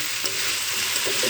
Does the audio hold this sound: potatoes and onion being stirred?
yes